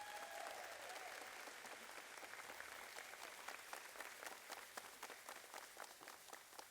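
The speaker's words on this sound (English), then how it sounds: "A big round of applause for all three of them." Steady applause fills a school gathering at Weslaco East High School, honoring three students signing to the inaugural UTRGV Vaquero drill team; dense clapping from many hands holds fairly even, at modest level, throughout.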